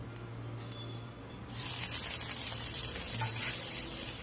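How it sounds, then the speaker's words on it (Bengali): Cumin seeds and half a spoon of asafoetida hit two spoons of hot oil in a pan, bursting into a loud, steady sizzling hiss about a third of the way in that continues to the end. "এবার একটা প্যানে 2 চামচ দিলাম তেল, 1 চামচ জিরে ফোড়ন দিয়ে দিলাম, আর দিলাম হাফ চামচ হিং"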